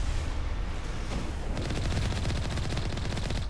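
Rapid gunfire from mercenary anti-tank enemies in the video game Mass Effect 1 rattles in dense bursts, growing into a steady fast stream of loud shots in the second half, with no speech.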